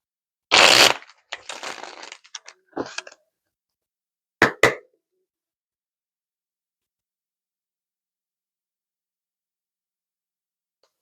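A deck of tarot cards riffled and shuffled by hand, a dense burst of papery flutter followed by several shorter card slaps and shuffles, then two quick snaps and long silence.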